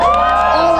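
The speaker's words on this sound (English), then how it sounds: "give them a round of applause." A rally crowd cheers and whoops in a short, loud burst, with shouting voices layered together and no clear clapping standing out.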